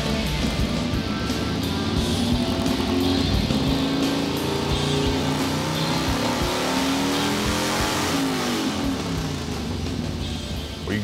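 A V-twin motorcycle built as a hot rod revs hard on a chassis dyno indoors, its loud engine note climbing and falling in pitch through sustained runs with no talk over it.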